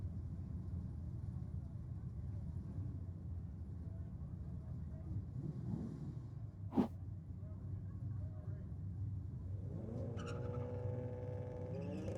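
Mitsubishi drag car launching at a JDM Euro night drag racing meet, a distant engine roar rising over steady crowd and commentary noise with a sharp bang midway and a climbing rev toward the end, with people talking.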